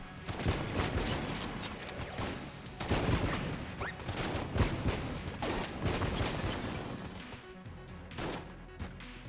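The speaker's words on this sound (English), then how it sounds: "Wasting my ammo to shoot them." Video game gunfire rattles in dense, overlapping bursts of shots and impacts, loud and nearly continuous, easing slightly toward the end.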